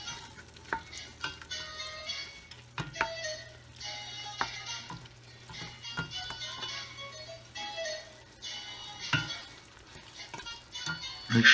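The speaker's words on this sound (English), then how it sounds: "Make sure you're stirring it real good now, getting all the sides nice and cooked." Meat sizzles as it browns in a pan for spaghetti sauce, with a utensil stirring and scraping in close, intermittent strokes over the steady frying hiss.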